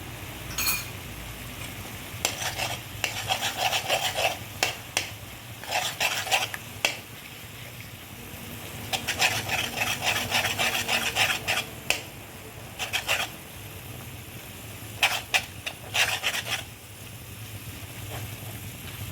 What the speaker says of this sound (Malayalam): ഇനി ഈ മുട്ടയിലേക്ക് ആവശ്യമായിട്ടുള്ള ഉപ്പും കൂടെ നമുക്കൊന്ന് ഇട്ട് കൊടുത്തിട്ട് നല്ലപോലെ ഒന്ന് സ്ക്രാമ്പിൾ ചെയ്തെടുക്കാം